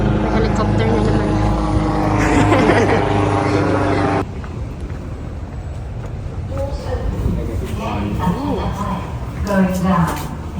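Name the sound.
helicopter flying overhead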